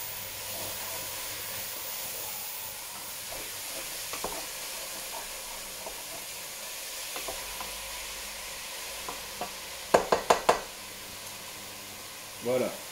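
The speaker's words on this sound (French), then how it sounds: "je fais rôtir ma viande, tout simplement" Minced meat browns over maximum heat in a pan with a little fat for bolognese sauce, giving a steady low sizzle throughout, with a few sharp utensil clicks and scrapes near the end.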